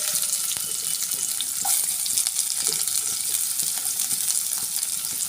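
Chopped garlic, ginger and onion hitting hot oil for egg kosha, a loud bright hissing sizzle that holds steady, with occasional small pops and utensil taps.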